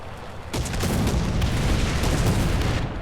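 A heavy boom from an artillery shell striking a Black Prince heavy tank in the War Thunder video game, hitting suddenly after a brief quiet moment and leaving a loud, sustained rumble that fills the rest of the moment.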